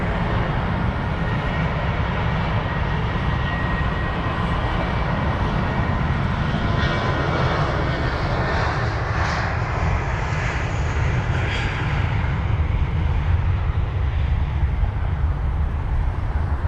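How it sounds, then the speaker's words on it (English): An Airbus A320 landing at London Heathrow makes a steady, loud jet-engine roar that fills the whole stretch without break, with a faint distant rumble underneath and no talking. "There it is, the A320"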